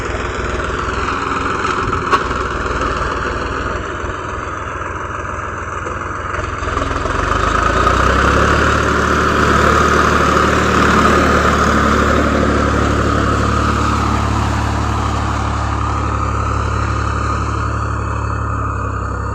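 A tractor engine runs steadily while ploughing a castor field on a village farm, a continuous low droning rumble that grows heavier and louder partway through and holds close and steady to the end, with no talk.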